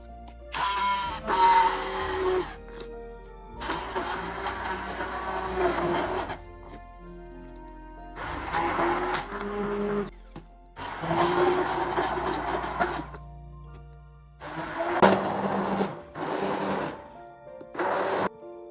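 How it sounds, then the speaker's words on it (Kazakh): Electric blender pureeing fried beef liver with vegetables and cream for pâté, running in several loud whirring bursts separated by short pauses. "кез келген блендерден өткізіп аламыз."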